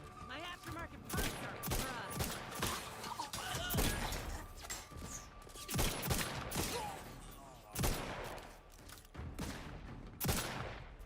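Gunfire in the sci-fi game The Outer Worlds 2: repeated sharp, spaced shots crack out over a busy game soundtrack, with voices talking in between.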